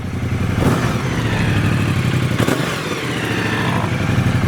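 A Ducati motorcycle engine starts up after sitting unused for a long time, then runs with a loud, steady mid-pitched idle that carries a clattery mechanical texture and brief rising revs, close by with no talk.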